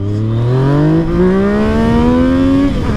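Motorcycle engine, a Yamaha MT-09 or Aprilia Tuono V4 1100 Factory, revving hard and climbing steadily in pitch for over two seconds, loud and close, then cutting off abruptly.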